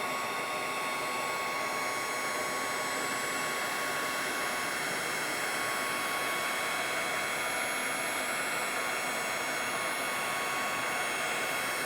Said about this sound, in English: I'm just going to give it a little blast with my heat tool until you can see everything starting to melt